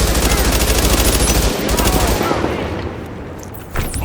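Rapid automatic gunfire in the video game The Division, a dense crackling burst that trails off into scattered shots and fading echoes, with a single sharp report near the end.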